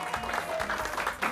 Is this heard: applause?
yes